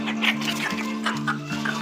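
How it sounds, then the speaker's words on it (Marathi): Hens clucking softly and repeatedly close by, over a steady low droning hum. "ही कोंबडी बघा"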